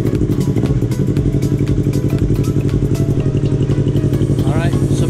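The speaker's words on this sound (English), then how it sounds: "then we start engine to test it" A Yamaha R25 motorcycle fitted with a racing air filter runs loud and close, its twin-cylinder engine idling with a steady pulsing throb and mechanical clatter, and a brief rev near the end.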